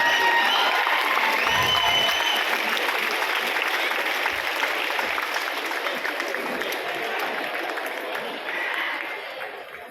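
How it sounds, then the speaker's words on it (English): Sustained applause from a large audience, dense and steady clapping with a few cheers, gradually easing off toward the end. "I want to clap for 30 seconds for them"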